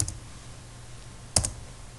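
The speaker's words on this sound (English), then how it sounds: "Now in the search bar type www.touristvisaonline.com." Brief computer keyboard typing, a couple of faint, close key clicks at the start and a short cluster of sharper taps midway, in a quiet room.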